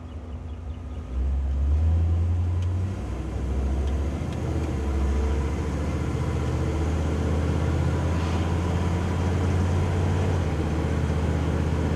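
A 1957 Chevrolet Bel Air restomod with a four-speed 700R4 overdrive automatic cruising at about 20 mph, its engine settling into a steady low rumble after a brief rev, with constant cabin and road noise and no talking.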